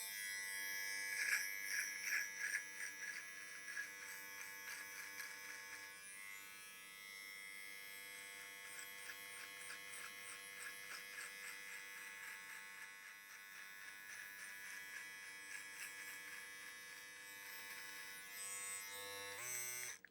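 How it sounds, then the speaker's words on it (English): An 11-in-1 USB rechargeable cordless trimmer runs continuously with a steady, high-pitched electric buzz, close and clear, with a few rougher bursts near the start as it moves through hair. "So that's the 11-in-1 cordless trimmer kit."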